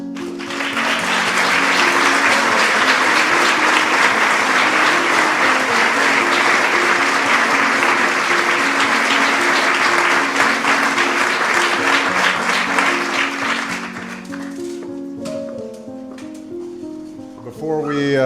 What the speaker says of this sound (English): why don't we all give an extraordinary round of applause to these remarkable men and women